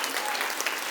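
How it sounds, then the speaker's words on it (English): An audience at a financial freedom talk breaks into dense, brief applause. The clapping is close and fairly loud for under a second, with faint voices mixed in. "can clap for that, I guess"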